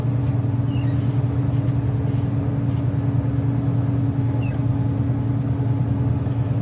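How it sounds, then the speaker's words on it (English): A semi truck engine brakes with its jake brake while descending a steep grade, giving a steady loud low drone and hum that continues throughout with no pause. "Jake brake's holding us."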